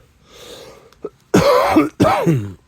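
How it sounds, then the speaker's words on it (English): A person coughing, a short throat-clearing hack followed by two loud, harsh, close coughs in quick succession. "I'm getting a little bit of a cough."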